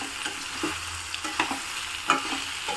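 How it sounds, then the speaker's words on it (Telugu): Ivy gourd fry with turmeric is stirred in a pan, giving soft scraping strokes and light sizzling at an uneven, unhurried pace with no talking. "పసుపు వేసుకుని ఒక్కసారి ఇట్లా కలుపుకోవాలి"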